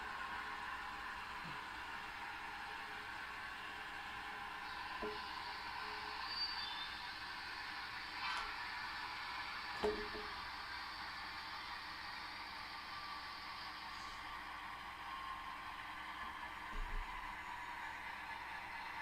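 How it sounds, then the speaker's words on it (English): A passing train led by two 12-axle locomotives makes a faint, distant, steady rumble and rail noise, with a few soft clanks and no talking. "So I got two 12-axle locomotives."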